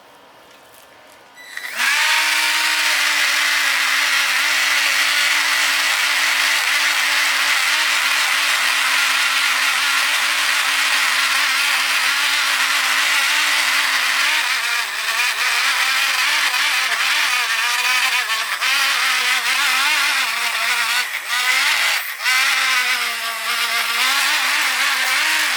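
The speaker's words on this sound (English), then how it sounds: "I'm just going to use this wire wheel on a Dremel-like tool, just kind of get in the nooks and crannies" A wire wheel spins on a Dremel-style rotary tool, scrubbing old paint off parts of a 1970 Honda Z50 Mini Trail; a loud, steady high-pitched whine and grinding rasp runs continuously, wavering slightly as the wheel presses into crevices.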